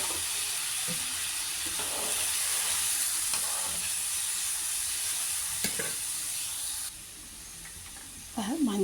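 Thick tamarind water poured into a hot pan sizzles with a broad, steady hiss close by, with faint stirring knocks, before the sizzle drops lower near the end.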